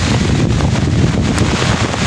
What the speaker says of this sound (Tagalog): Medyo malakas-lakas na po kasi yung hangin